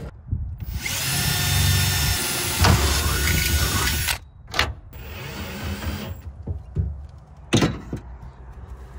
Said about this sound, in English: I've got a couple screws in the bottom here to hold this in place.